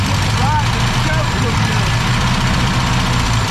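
A 1965 Ford Galaxie 500, freshly revived after decades and running with a carburetor in need of rebuilding, idles with a steady, close, rumbling drone and slightly rough pulsing throughout.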